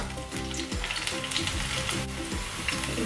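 Loud, close sizzling of ginger frying in hot oil, dense crackle with intermittent scraping and clanking of stirring.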